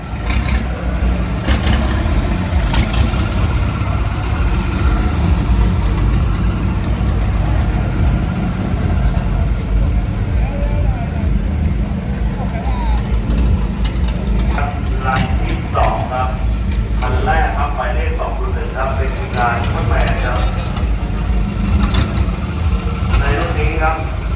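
A naturally aspirated pickup truck with no turbo idles at a drag race in Bangkok, a steady low engine rumble holding throughout with someone commentating over it and crowd noise around.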